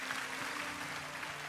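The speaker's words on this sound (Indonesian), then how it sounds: "Berikan tepuk tangan untuk Yesus." A church congregation claps at the close of a worship service, an even, continuous patter of hands heard moderately loud throughout the short moment.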